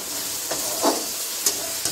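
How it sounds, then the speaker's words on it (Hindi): Masala paste sizzles and fries in oil in a pan while being stirred for an aloo egg curry, a steady close hiss with a few soft scraping stirs. "तो ये मेरा मसाला भून चुका है, देख सक रहे हो तेल आ चुका है मसाले में।"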